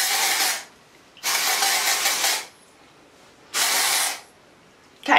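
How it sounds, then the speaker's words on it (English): Batiste dry shampoo aerosol can sprayed in three long, loud hissing bursts of one to two seconds each, separated by quieter gaps of shaking, with another burst starting at the end. "Shaking vigorously between sprays."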